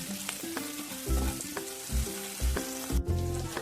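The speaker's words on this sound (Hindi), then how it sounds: "देखिए, मेरा अंडा और आलू दोनों अच्छा से फ्राई हो चुका है" Egg and potato fry in a pan for egg curry, giving a close, continuous sizzle. Soft stirring bumps and low thuds come through at intervals, with faint tonal sounds in the background.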